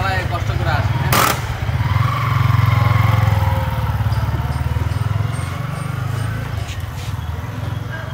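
A Yamaha R15 V3 motorcycle with a slipping chain and sprocket rolls slowly, its engine a steady low rumble throughout, close by, with a brief sharper rattle early on and some background noise.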